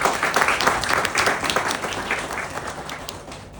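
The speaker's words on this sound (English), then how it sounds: "So one big round of applause for all the leaders and managers in the room." Audience applause from many people in a room honouring leaders and managers, a dense steady patter of clapping that holds for the whole span and tapers slightly toward the end, with no one speaking over it.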